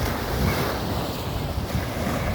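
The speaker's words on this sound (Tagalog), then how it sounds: "Dito na naman ako sa dagat guys." Sea waves wash onto a beach at Bye-Bye Beach in Pambuhan, a steady broadband surf roar mixed with gusty wind buffeting the microphone, continuous and fairly loud with no talk.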